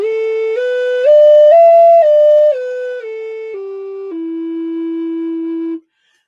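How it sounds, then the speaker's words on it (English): A Native American flute plays a minor pentatonic scale, up and then back down. Each clear, breathy note is held evenly, with no gaps, before the last low note fades out. The flute is close and loud, with no voices. "that scale is a minor pentatonic scale"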